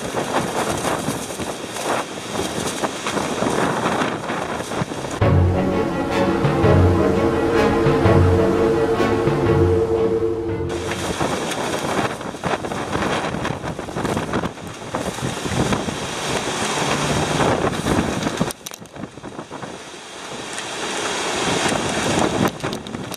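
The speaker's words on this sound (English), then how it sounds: "So see, here's the wind now. It's gonna slam us in a second, dude." Strong gusting wind from a quick, intense storm roars steadily into the microphone, loud and buffeting, with a deeper rumbling surge partway through and no talk.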